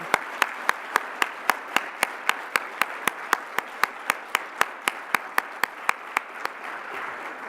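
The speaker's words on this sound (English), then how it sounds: "maybe we could clap for them and they could hear us" Steady rhythmic clapping at a conference plenary closing session, sharp even claps in a regular beat repeating throughout, moderately loud over a faint room background with no talk.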